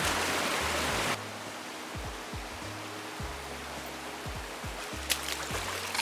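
Steady rushing water at Devkund waterfall in Tamhini Ghat, a loud broadband roar for the first second that then drops to a softer, continuous wash with low rumbling bumps, no voices.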